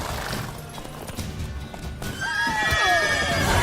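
A horse in The Witcher 3: Wild Hunt whinnies loudly and close with a rising, wavering neigh, preceded by hoof clatter and background noise.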